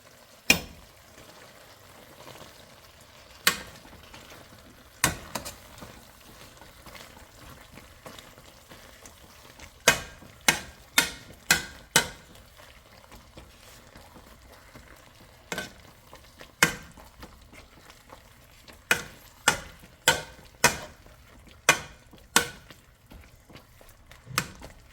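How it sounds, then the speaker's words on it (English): Soft cooked potatoes mashed with butter for shepherd's pie, a quiet bed of noise punctuated by irregular sharp knocks of the masher against the pot, sometimes in quick bursts. "I'm going to be adding some butter in there, and then I'm going to mash the potato together"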